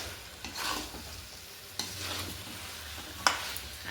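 Fried potatoes are stirred in a sizzling pan while cooking a potato curry for twenty people, with repeated scraping strokes of a spoon and a few sharp metallic clinks over a continuous frying hiss.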